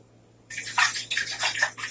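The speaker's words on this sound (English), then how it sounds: "We're filling it with water." Water splashes and gurgles into a container in a short, bright burst, starting abruptly and continuing unevenly, close and with no voices.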